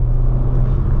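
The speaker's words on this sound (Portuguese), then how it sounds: "eu só tô dando esse acelero aqui porque não tá gravando" Deep, loud, close engine rumble from an Audi A5, a steady low drone held throughout the short moment with no talk.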